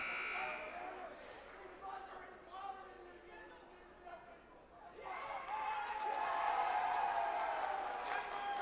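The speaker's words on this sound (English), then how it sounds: "Buzzer went off, but not sure that anything was determined there" Buzzer sounding at the scorer's table during a high school girls' basketball game, a long sustained tone emerging over gym crowd noise and chatter, fairly faint under the ambient din.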